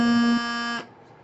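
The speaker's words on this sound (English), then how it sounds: "and that now gives us a low A" A bagpipe chanter holds a steady, reedy low A for under a second, then stops abruptly, leaving a faint room tail; no talking.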